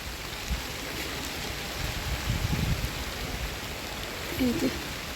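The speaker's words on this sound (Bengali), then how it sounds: "বৃষ্টি তো শুরু হয়ে গেল" Steady rain falls on a rooftop garden as a broad continuous hiss, with faint voices underneath.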